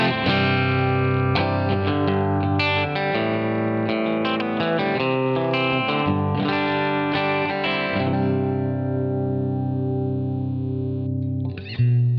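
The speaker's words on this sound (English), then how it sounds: "This is just the amp with a compressor, a little bit of reverb and delay" Clean electric guitar through a Line 6 Helix amp model with compressor, light reverb and delay, picking arpeggiated chords that ring and trail off with echoes, loud and alone.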